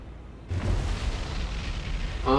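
A ship's magazine explodes in the naval video game War on the Sea: a sudden loud blast that grows into a long, deep roaring rumble lasting about two seconds.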